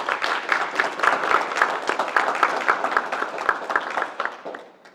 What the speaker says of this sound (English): Let's give them the applause they deserve.